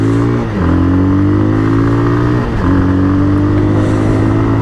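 Close, loud Bajaj Pulsar 220 engine under hard braking with disc brakes front and rear and single-channel ABS, revs steadily dropping twice in pitch as the bike slows, a continuous throbbing drone with no talk.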